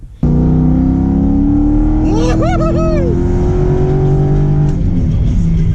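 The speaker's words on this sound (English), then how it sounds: "I'm going to take it down the road and do a nitrous hit." A Corvette C5 accelerates hard on a nitrous hit, its loud, close engine note climbing steadily in pitch for several seconds before easing off.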